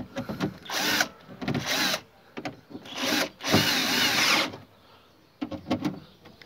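A power tool drives in the window regulator motor of a Fiat Panda 1.2 (169) in short bursts, its whirring buzz stopping and starting in several pulses of about a second, close up with no talk.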